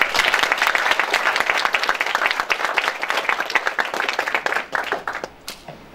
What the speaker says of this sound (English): A huge round of applause for the panelists.